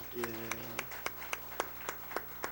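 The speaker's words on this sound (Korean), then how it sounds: "우리 반주사님 박수 한번 치겠습니다" A few people in a church congregation clap for the pianist in a sparse, regular rhythm, about a dozen distinct claps, while a voice speaks briefly at the start.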